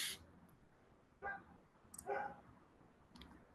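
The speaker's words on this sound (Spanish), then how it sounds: "me parece que se escucha el ladrido del perro" A dog barks faintly in the distance, a few short, scattered barks over a quiet background.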